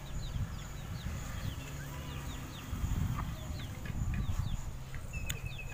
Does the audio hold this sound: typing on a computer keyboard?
no